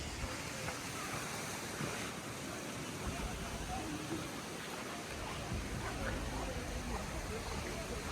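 Broadband wash of water waves at a beach at a theme park in Qatar, a continuous rushing surf with gentle swells and some wind buffeting on the microphone.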